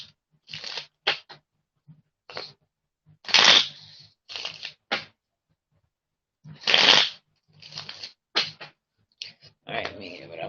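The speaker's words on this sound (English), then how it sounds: "let me give it a one more shuffle here" A deck of playing cards riffle-shuffled in repeated bursts, crisp close fluttering rasps separated by short pauses, loud and up close with no talking.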